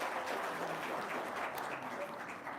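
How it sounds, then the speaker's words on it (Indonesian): Hands clap together in a steady, fairly soft round of applause from a small group, continuous for a couple of seconds with no talk over it. "Tepuk tangan dong."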